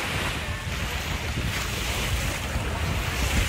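Ocean surf washing steadily onto a warm beach, a loud, continuous roar mixed with heavy wind buffeting the microphone, with no voices.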